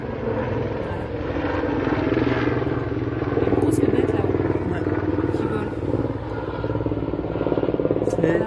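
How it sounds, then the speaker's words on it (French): A firefighters' helicopter flies overhead, its steady rotor drone loud and continuous throughout, swelling slightly in the middle, while people talk over it. "L'hélicoptère des pompiers."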